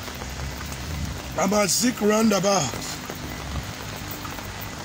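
Steady rain falls outdoors at a roundabout in Nigeria on a wet morning, a constant hiss of drops on surfaces throughout, with someone speaking briefly over it partway through.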